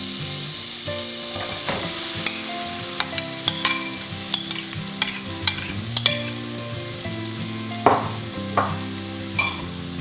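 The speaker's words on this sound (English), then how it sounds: "And then I'm going to add in the onions." Onions sizzle in butter in a pot on a medium flame for butter chicken curry, a continuous close frying hiss broken by scattered sharp spoon-on-pot clicks as they are stirred.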